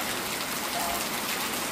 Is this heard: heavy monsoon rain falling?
yes